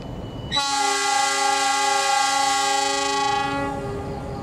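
A loud, sustained train horn blasts for about three seconds, rich and tonal, over the low rumble of the Cikuray train departing Cibatu station in Indonesia.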